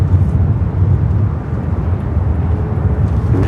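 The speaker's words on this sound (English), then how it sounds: "Turkish A350-900, the flight heading back to Istanbul, heading up here for north side at takeoff." A Turkish Airlines Airbus A350-900 takes off at LAX, giving a loud, continuous low jet rumble that holds steady throughout.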